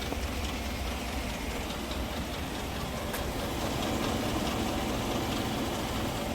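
A 2018 Chevy Silverado 5.3 V8 running rough gives a dense, steady engine drone with a faint underlying tapping, heard close and fairly loud throughout with no speech.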